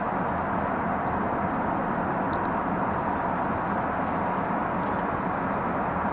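Steady broadband roar of a passenger airplane cabin at cruising altitude, a constant even drone with no voices, heard from a seat in first class.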